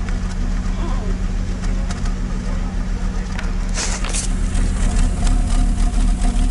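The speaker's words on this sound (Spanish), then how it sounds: "Así es el sonido del ralentí de este vehículo." A 1984 Audi 200 2.2 Turbo five-cylinder idles with a steady, low, even rumble that holds throughout, with a few faint clicks and light background noise.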